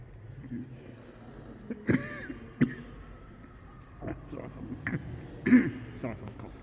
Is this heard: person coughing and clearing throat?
yes